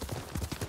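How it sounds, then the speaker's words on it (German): A quick run of horse hoof clops in an even trotting rhythm, close and moderately loud, from riding a horse in the video game Ghost of Tsushima. "Ich reite mit meinem Pferd."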